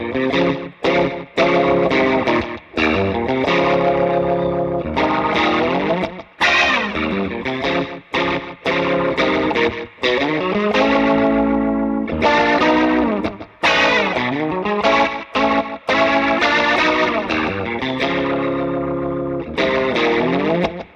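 An effects-laden electric guitar plays the head of the tune 'Brown Gatton', a loud, continuous melodic line with distortion and chorus, phrased in short bursts separated by brief gaps.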